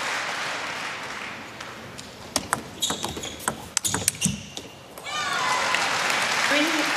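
Applause from the Frankfurt crowd at a women's singles table tennis final rises, gives way to sharp ball taps and a commentator's voice in the middle, then swells again into steady clapping.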